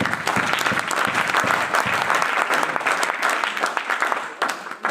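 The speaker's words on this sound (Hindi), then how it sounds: "जोरदार तालियां होनी चाहिए" A crowd at a business leaders' gathering claps loudly and continuously, dense applause filling the whole stretch before easing slightly at the end.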